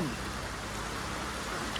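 Steady rain falling outdoors during a fishing outing in Syangja, a dense, even hiss throughout with no clear talking.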